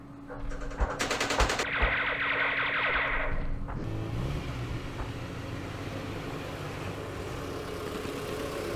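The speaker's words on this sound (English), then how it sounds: "Anti-aircraft guns." Anti-aircraft guns in the Vietnam wargame Campaign Series Vietnam fire a rapid chattering burst with sharp repeated shots, then give way to a low rumbling engine-like drone that carries on steadily to the end.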